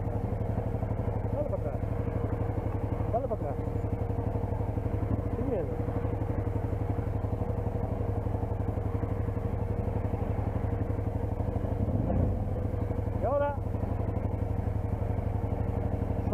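A trail motorcycle engine idles and runs steadily close by, a constant low mechanical hum with faint clatter and small revs throughout.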